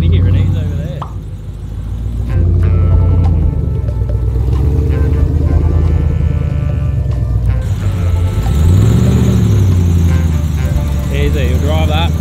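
A 4WD churns through slippery, boggy mud on an outback track, its engine rumbling and revving steadily throughout with wheel and mud noise, while people talk over it.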